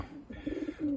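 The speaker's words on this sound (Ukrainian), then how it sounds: "голубка сидить" A female pigeon sitting on her nest coos in a low, warbling call, a couple of soft rising phrases close by within a second.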